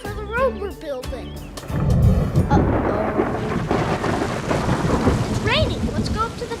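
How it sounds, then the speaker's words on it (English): A thunderstorm effect of heavy, rushing rain with rumbling thunder plays during a toy construction play scene. The loud, broad roar starts after a brief voice and continues steadily, with voices briefly heard over it near the end. "It's raining."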